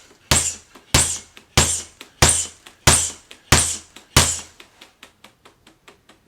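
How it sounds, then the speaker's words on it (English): Punches land on a Cobra punching bag mounted on a weighted base: seven hard, evenly spaced thumps with a sharp crack, each followed by fainter rattling taps, then a run of lighter clattering knocks. "let's see how it goes with me smashing the bag"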